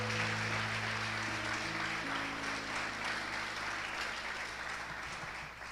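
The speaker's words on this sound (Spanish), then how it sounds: "¿Cuántos le dan un fuerte aplauso a Dios?" A church congregation applauds steadily at a worship service, a dense sustained clapping over low held organ or keyboard tones, fading slightly toward the end.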